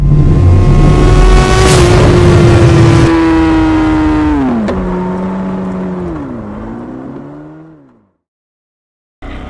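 KTM Adventure 390 motorcycle setting off, its engine revving up loudly and close, then easing and pitching down through a couple of shifts as it pulls away and fades out.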